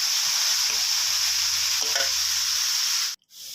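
Minced pork stir-fries for Thai dried-chili basil pork, a loud dense hiss of hot oil running almost unbroken with a faint scrape midway, then cutting off abruptly into a short gap before the sizzle resumes.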